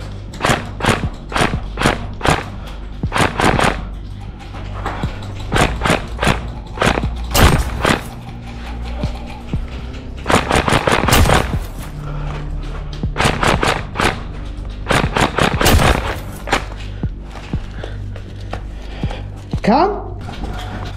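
Airsoft gun firing during an outdoor game, bursts of sharp, close shots in quick clusters separated by short pauses, with people talking between and over the shots.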